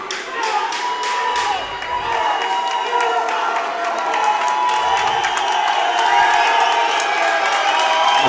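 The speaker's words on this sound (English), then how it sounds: "The crowd starting to erupt here" A live fight-event crowd cheers and erupts with applause, a dense sustained roar of voices and clapping that builds toward the end, loud and close.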